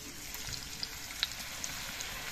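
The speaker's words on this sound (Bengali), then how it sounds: "সাদা তেল দিয়েই মোচার খোলাগুলোকে আমি ভাজবো" Banana blossom peels frying in hot white cooking oil in a kadai, a steady broad hiss with a few small pops, no voices.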